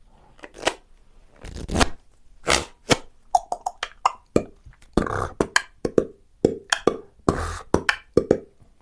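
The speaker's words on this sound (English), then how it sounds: "now you make a false swing cut like this" Playing cards are handled close up in a false swing cut, giving a series of crisp snaps, soft taps and shuffling flicks in an irregular rhythm against a quiet background.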